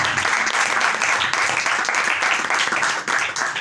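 A church congregation breaks into loud, dense applause during a sermon, many hands clapping together in a sustained burst with no pause.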